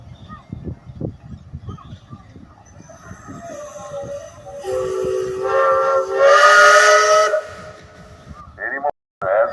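A steam engine whistle blows at a parade in a steam engine show. The whistle sounds one long, loud, rising blast after a stretch of rumbling and talk, and a short toot follows at the end.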